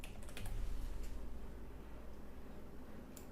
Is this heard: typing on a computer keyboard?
yes